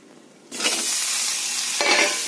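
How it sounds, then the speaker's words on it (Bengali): Onion and tomato, cut into large pieces, hit a hot pan and set off a loud, steady sizzle with stirring noise that lasts almost to the end, swelling briefly near the close. "এই যে পেঁয়াজ আর টমেটোটা একটু ভাজা ভাজা করে নেবো আগে"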